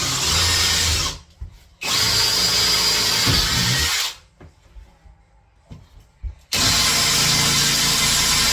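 Power drill boring into a composite kitchen worktop during a kitchen install, two loud sustained bursts of drilling broken by a short pause, then quieter handling and clatter before the drill roars again at full speed.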